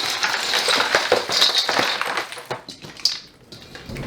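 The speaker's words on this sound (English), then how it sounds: "to stop the cooking, we're gonna add some ice" Several hard clinks and clatters as pieces of ice drop into a pot to stop sausages cooking, with a bright, busy kitchen background.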